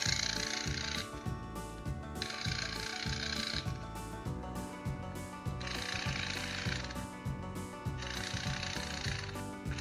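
A loud, malfunctioning Thomas Trackmaster Proteus toy train motor runs with a steady grinding, gear-clattering whir, broken by regular bursts of harsher rattling that repeat every couple of seconds throughout.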